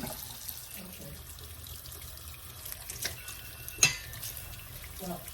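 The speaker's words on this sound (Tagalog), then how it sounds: "lagyan ko ng malamig na tubig." Cold tap water runs into a pot of cooked beef and broccoli, a low steady trickle with soft splashing and one sharp metallic clink of the pot, close and fairly quiet.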